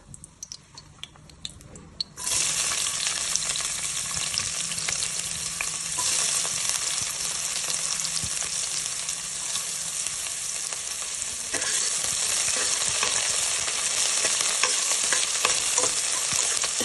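Onions frying in oil in a pan for vegetable pulao, first a quiet stretch, then a loud, sudden, sustained sizzle with steady stirring and scraping that continues right to the end.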